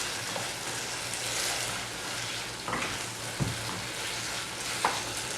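Chicken curry for a side dish sizzles quietly in a pan after hot water is poured in, with soft stirring scrapes and occasional light knocks of a spoon against the pan.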